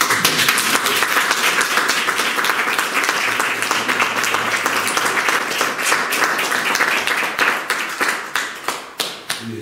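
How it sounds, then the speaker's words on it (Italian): Applause at a town council and executive inauguration in Casoli, Italy: dense clapping from a crowd, loud and sustained, thinning toward the end into a few distinct, sharper individual claps. "Un applauso."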